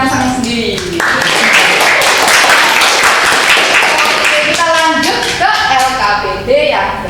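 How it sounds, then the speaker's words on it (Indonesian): A classroom of students claps during a Japanese micro-teaching lesson, a loud burst of applause filling the room for several seconds while voices talk over it at the start and end. "Dikasih tepuk tangan untuk"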